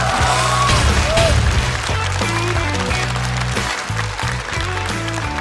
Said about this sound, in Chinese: 再次掌声送给孙熙。